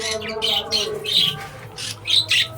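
Budgerigars in a breeding cage colony squawk and chirp in quick bursts close by, several birds calling over one another.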